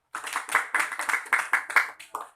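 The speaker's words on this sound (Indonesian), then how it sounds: "Beri tepuk tangan untuk Jasi" Schoolchildren in a classroom clap for a classmate who answered a science question, a short burst of about eight quick, close rhythmic handclap pulses with a final lighter clap.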